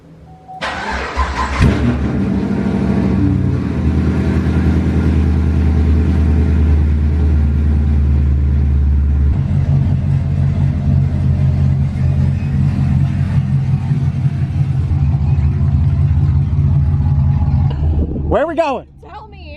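A car engine starts with a short burst, then settles into a steady, loud low rumble as the vehicle drives along the road, fading out at the end.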